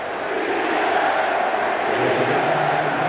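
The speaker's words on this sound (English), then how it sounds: "Listen to this crowd now. They want their defense." Football stadium crowd at a 1997 NFL Wild Card game between Detroit and Tampa Bay roars for the defense, a dense, sustained wall of cheering that swells slightly toward the end.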